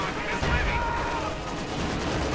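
Maxim machine guns fire in a World War II strategy video game, a dense, rumbling burst of distant gunfire and explosions under a steady battle din.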